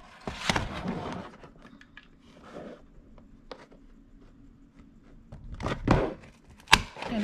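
A hand punch snaps through a Dollar Tree craft bag to make handle holes, a few sharp, close clicks spaced apart in an otherwise quiet room.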